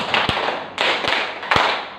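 Sharp group claps from a clap game at a teacher training session land in three distinct bursts, each followed by a short scatter of looser claps in a reverberant room.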